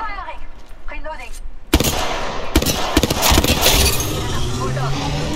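Weapon fire in Apex Legends while playing as Horizon: after a brief stretch of voices, loud close shots burst in, with sharp repeated reports over dense action noise, and speech continues under it.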